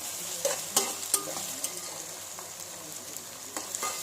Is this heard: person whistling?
no